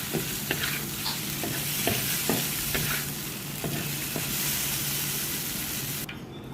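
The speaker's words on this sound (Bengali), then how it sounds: "দিয়ে এটা ভালো করে ভাজা ভাজা করবো ভাজা ভাজা করে নামিয়ে নিই" Green tomato bhorta fries in a pan under a steady sizzle while a spoon scrapes and stirs in repeated strokes, fairly close and moderately loud.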